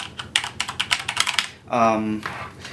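Typing on a Corsair K70 mechanical keyboard fitted with Cherry MX Brown switches, a close run of crisp, moderately loud key clicks in an uneven rhythm, broken partway through by a short stretch of a voice speaking.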